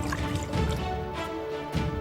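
Collected standing water being poured out from a container such as a flowerpot, cooler or tank, a close, loud, continuous splashing pour with gurgling and dripping, no voices.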